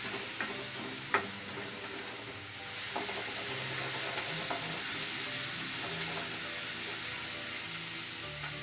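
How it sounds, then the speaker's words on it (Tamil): Onions sauté in a frying pan with a steady, loud sizzle and hiss, broken by occasional scrapes and taps of a stirring spoon against the pan. "நல்லா இப்படி வதக்கணும். அந்த வெங்காயம் வந்து செவக்க வரணும்."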